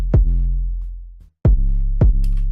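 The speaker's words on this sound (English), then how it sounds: "it's ducking the 808 here" A deep 808 bass drops away under each punchy kick hit through sidechain compression, then swells back, three heavy pumping hits close and loud with no talking.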